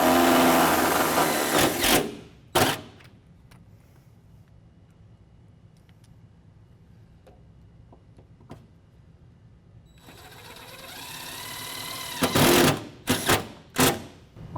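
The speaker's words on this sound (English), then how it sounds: "I'm going to go ahead and put our self-tapping screws up through the bracket into the rocker panel." Self-tapping screws driven by a power driver up through a running-board bracket into the rocker panel of a Chevy Express van, heard as short whirring bursts near the start and several more clustered toward the end, with quieter handling noise between.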